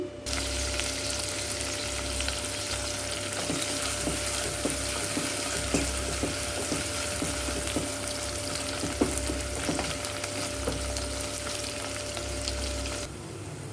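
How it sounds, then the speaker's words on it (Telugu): Onions and green chillies fry in oil and ghee with biryani masala inside a pressure cooker for mutton pulao. The sizzle is continuous, with light stirring clinks and a faint steady hum underneath. "ఉల్లిపాయలు బాగా వేగిన తర్వాత"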